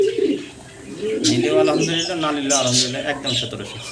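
Pigeons offered for sale in pairs coo and chirp close by, their soft throaty calls mixed with someone talking over them.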